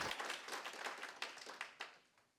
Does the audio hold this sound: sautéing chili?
no